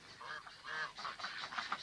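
Several domestic geese of a noisy sport breed give trumpeting honks, a run of repeated nasal calls at a moderate distance, fairly quiet and with no speech.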